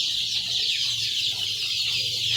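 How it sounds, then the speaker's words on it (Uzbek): Month-old Andijan black chicks chirp and cluck in a steady, continuous chorus, fairly faint under a constant background hiss. "Andijon qora jo'jalarimiz sotiladi."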